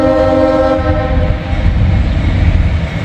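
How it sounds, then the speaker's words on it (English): A CSX locomotive sounds its odd-toned horn in a loud, close, sustained blast over the heavy rumble and clatter of the rolling train, in Walton. "Just a weird sounding horn."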